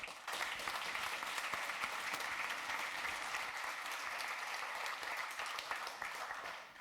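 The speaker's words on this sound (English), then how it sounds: "So give a big applause to Benni Mack." A room of attendees at a TYPO3 developer conference applauds a speaker, a full, even wash of clapping held for several seconds before tapering off.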